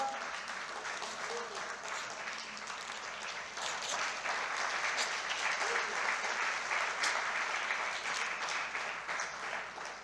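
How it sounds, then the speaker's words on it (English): A conference hall audience at the inaugural session of an annual conference gives a long, sustained round of applause, a dense even wash of many hands that builds slightly midway and holds. "please give them a thunderous round of applause."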